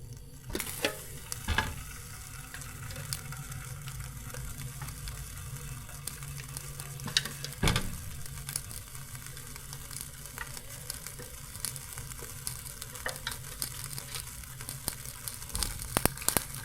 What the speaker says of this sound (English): I'm gonna caramelize this fat with the butter.